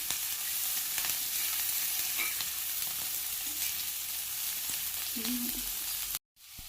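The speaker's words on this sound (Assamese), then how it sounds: "আৰু পিঁয়াজটো ৰঙচুৱা হোৱালৈ ভাজিব।" Onions frying in oil in a pan, a close continuous sizzle with light stirring scrapes, running alone until it cuts off near the end.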